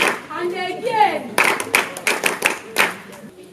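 Children clap their hands in a string of sharp, uneven claps following a spoken voice, several distinct rounds close by, mixed with voices.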